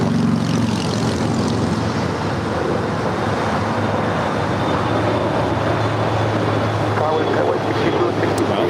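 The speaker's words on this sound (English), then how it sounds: "the Japan Airlines Dreamliner heading up to the north side" Japan Airlines Boeing 787-9 Dreamliner taxiing at LAX, a steady broad engine rumble and whine with wind noise, continuous and fairly near throughout.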